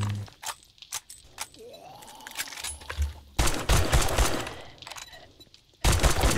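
A shotgun fires in the zombie survival game 7 Days to Die, with sharp, loud blasts in an irregular sequence, some spaced apart and others in heavy bursts, mixed with clatter and other game noise.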